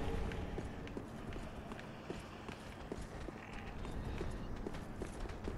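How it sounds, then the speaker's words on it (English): Rapid, repeated footsteps in Dark Souls 3 patter in a quick, uneven rhythm against a dense, noisy game background, fairly loud and close. "I keep on hearing footsteps."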